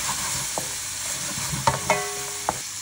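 Green olives and pitted Gaeta olives browning in a frying pan, a loud continuous sizzle with a few short utensil clinks and scrapes near the end, no talking.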